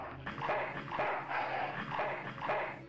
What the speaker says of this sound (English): That's one ill tempered mongrel.